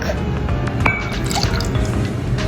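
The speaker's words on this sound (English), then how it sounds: "Put half a cup of milk" Milk poured into a small bowl, a close, steady liquid pour with drips and splashes running throughout, no voices.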